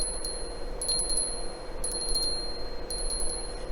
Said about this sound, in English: That's a good sounding bell.